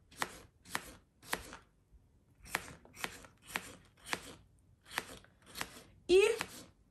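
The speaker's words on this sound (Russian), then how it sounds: "И перчик нарезаю вот на такие дольки." A knife slices a bell pepper into wedges on a cutting board, giving about ten crisp, evenly spaced chopping strikes close up, with a brief squeaky scrape at the end.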